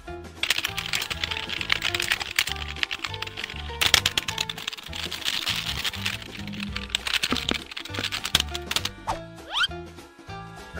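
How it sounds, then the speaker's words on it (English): Typing on a computer keyboard during a PC session of GTA 5 Online, rapid irregular clicky keystrokes in quick bursts with brief pauses, close and crisp, with no speech. "Start typing."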